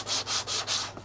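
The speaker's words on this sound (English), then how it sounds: "So that I'm sanding this edge and this edge" Four quick, even back-and-forth sanding strokes rasp along the edge of an HO scale model freight depot part, close and clear, with no talk.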